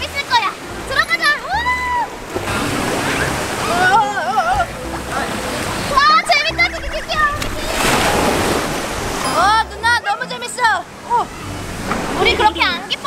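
Waves washing and splashing in a water park wave pool, with surges of rushing water rising and falling over several seconds while people talk and laugh excitedly close by.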